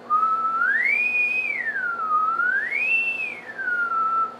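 A person whistles a clear, pure tone that glides smoothly up and down in two slow swells, demonstrating pitch control, close and alone with a faint steady hum underneath.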